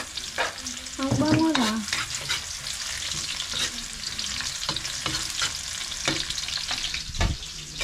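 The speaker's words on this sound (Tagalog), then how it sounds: "Gigisa na po si Papa." Papa sautés food in a pan at home: a steady, close sizzle with scraping and stirring runs throughout, while a voice speaks briefly near the start.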